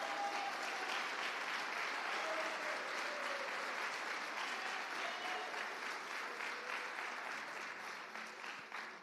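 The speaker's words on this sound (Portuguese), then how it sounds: "Aplauda o Senhor." A church congregation at a Portuguese-language Sunday service applauds in praise, a sustained, even roar of many hands clapping that continues for about nine seconds before easing slightly at the close.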